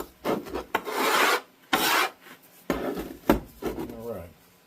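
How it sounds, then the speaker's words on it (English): Rough rasping scrapes as packed casting sand is struck off level in a mold for a reproduction colonial buckle, several firm strokes in quick succession with short pauses, close and clear. "Once it's all packed in there, we'll scrape it."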